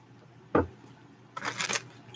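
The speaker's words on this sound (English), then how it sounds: "Last shuffle." Tarot cards are shuffled by hand: a single soft snap, a pause, then a short papery riffling burst, close and quiet.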